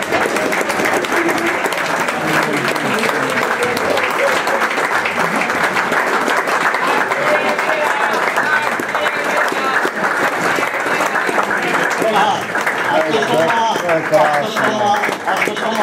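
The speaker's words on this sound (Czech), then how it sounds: "abyste mi zatleskali" Audience applauding at an annual club meeting in Uherský Brod, a steady, loud, dense round of clapping filling the room throughout, with voices mixed in.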